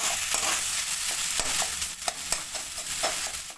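Boiled potato is stirred into a cauliflower mixture in a frying pan for cauliflower chops, with repeated close scraping and tapping strokes over a steady low sizzle.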